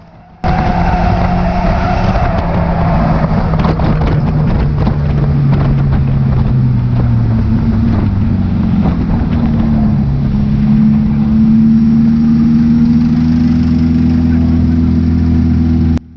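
A stock car engine roars loud and close at Cowdenbeath Racewall as it crosses the finish line, a steady droning pitch rising and shifting over sixteen seconds with tyre and track noise.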